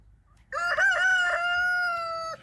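A rooster gives one long, loud crow close by, rising and then holding steady for nearly two seconds after a quiet start.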